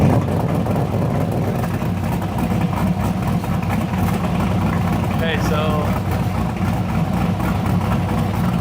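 A supercharged work van's engine idles close by with a steady low rumble, while someone talks briefly over it.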